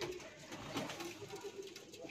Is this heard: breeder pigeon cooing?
yes